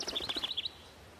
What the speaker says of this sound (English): saw a red bird land on a tree branch. Tweet, tweet, tweet.